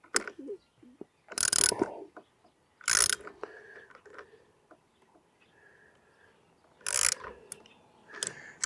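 Ratchet wrench tightening the bolt on a motorcycle hand guard, heard as three loud, close bursts of rapid clicking separated by quiet pauses with faint handling noises.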